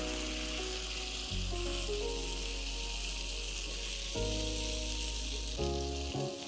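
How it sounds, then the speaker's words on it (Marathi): Mashed dal sizzles loudly as it is stirred into hot tempering over a high flame, a continuous crackling fry with several abrupt shifts in tone as it is mixed. "हाय फ्लेमवरती थोडंसं हे छान असं खमंग भाजून घेतलं की त्याच्यामध्ये आपल्याला आपण घोटलेली जी डाळ आहे ती सगळी मिक्स करायची आहे."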